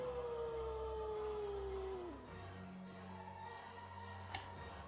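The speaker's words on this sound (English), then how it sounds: "Can you stop, like, howling?" A creature howls in the video game Bloodborne, a long falling wail that slides down in pitch for about two seconds and then cuts off, leaving quieter game ambience with a faint, brief high chime near the end.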